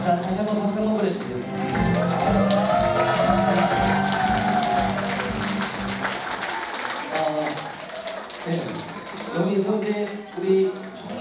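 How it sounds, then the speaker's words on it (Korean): Audience applause at a cafe's founding celebration and festival, a dense burst of clapping that builds and then thins out, mixed with a speaker's voice over it and scattered claps later. "자, 다시 한번 박수 한번 보내주세요."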